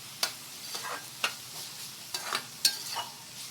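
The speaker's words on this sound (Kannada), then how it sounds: "ಹಾಗಾಗಿ ಎಣ್ಣೆಯಲ್ಲೇ ಬೇಯಿಸ್ಕೊತಾ ಇದ್ದೀನಿ ನಾನು." Sautéing in oil with salt and turmeric, with quiet scattered scrapes and clicks of a spoon stirring in the pan over a soft background sizzle.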